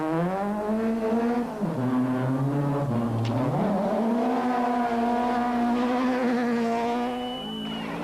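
Rally cars, including the Subaru team, race along a slippery stage at Cape Rally 2001, engines revving up and down with shifting pitch as a car passes fairly close.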